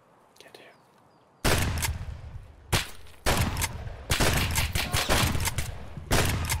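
Loud bursts of gunfire in Escape From Tarkov come in several close, sharp volleys after a quiet start, with brief gaps between them.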